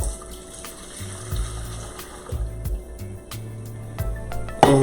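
Strained broth is poured from a container back into a cooking pot in a home kitchen, a soft, fairly close liquid splash and trickle that comes in short bursts, ending in a louder clank.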